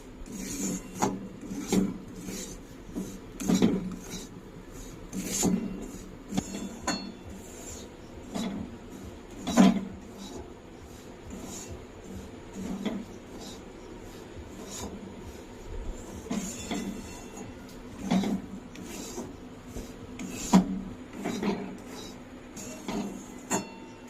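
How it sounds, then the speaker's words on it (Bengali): Semolina fried slowly over a low flame in a pan for a sweet milk pudding, stirred with repeated scraping and rasping strokes in an irregular rhythm, close and moderately quiet, with no talking. "সুজিটা খুব সুন্দর লাল লাল করে ভাজতে হবে"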